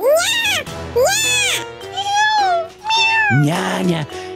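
High, bending meows from a cat in a Minecraft game, several drawn-out calls in a row, loud and close, alongside a child-like voice that may be mimicking the meowing.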